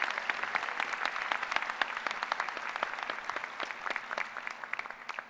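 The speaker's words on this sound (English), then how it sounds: "I think we should give him another round of applause" Steady applause from a university commencement audience at Kansas State, a dense patter of many hands clapping continuously and evenly from start to finish, no voices rising above it.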